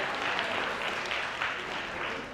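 Audience applause fills a university auditorium at a leadership conference, steady and dense clapping from a large crowd throughout, with no talking over it.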